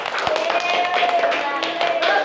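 Elementary pupils in an Islamic school classroom clap for a classmate, a quick burst of scattered hand claps heard alongside a teacher's voice.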